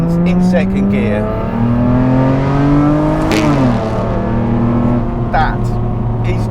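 A 2018 Kahn Vengeance is driven at full throttle in second gear, its engine revving hard in a loud, rising howl, dipping briefly at a shift point before climbing again, with faint voices over it.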